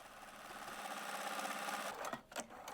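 Sewing machine topstitching around the slit of a jacket, a steady quiet whirr running continuously before it slows into a few uneven final stitches.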